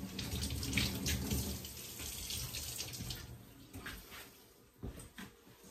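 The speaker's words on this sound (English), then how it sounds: "I wash my hands because they're pretty sticky." Water runs steadily from a tap as sticky hands are washed beneath it during honey extraction, a continuous close splashing stream with a few sharper splashes near the end.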